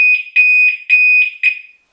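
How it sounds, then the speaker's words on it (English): A Demon motorbike alarm shrieks loud and close in a fast series of about six piercing high-pitched pulses, then cuts off into silence. "and set the alarm off. It's very loud."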